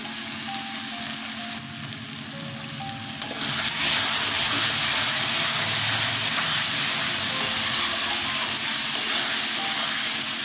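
Dried fish and garlic paste hit a hot pan for a shutki bharta, a dense steady sizzle that swells louder after a short quieter start and keeps hissing evenly up close.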